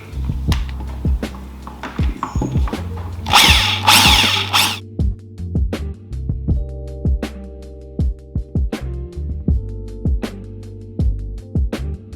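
A power drill with a larger bit bores a hole during a coilover install on an Audi S4: one loud, sustained burst of drilling, set among scattered clicks and knocks of tools and parts before and after.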